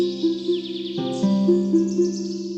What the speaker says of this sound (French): C'est alors qu'un bel oiseau coloré vint se poser sur son épaule.